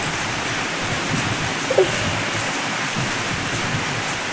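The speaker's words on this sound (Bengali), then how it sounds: "তো বাইরে পড়ছে মুসুলধারের বৃষ্টি" Heavy rain pours down outside in a loud, unbroken hiss that keeps an even intensity from start to finish, with no voices.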